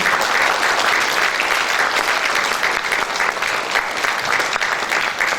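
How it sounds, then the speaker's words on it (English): An audience at a Zo community cultural show in Melbourne gives loud, dense, sustained applause, a steady wash of clapping with no gaps. "give a big round of applause for ZCA members, Zo community members"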